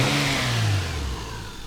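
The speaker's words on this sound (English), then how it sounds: "If you give it a little rev, it sounds nice." A non-turbo engine in a 1994 Toyota Supra JZA80 gives a short rev, its pitch rising and then dropping back toward idle.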